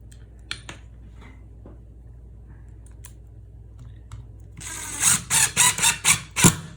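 A pointed drywall screw is driven through a plastic fog-juice bottle cap for a DIY Halloween motion-sensor prop, heard as close, sharp rhythmic clicking and ratcheting bursts near the end after quiet handling.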